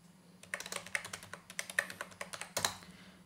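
Password being typed on a computer keyboard: a quick, close run of crisp key clicks in an irregular rhythm, with a louder cluster of keystrokes near the end, over a faint steady hum and no speech.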